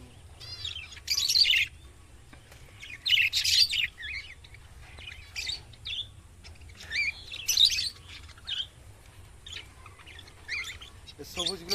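Pet lutino birds in a home aviary chirp in bright bursts, several clustered flurries of high tweets coming and going across the stretch, fairly close and without speech over them.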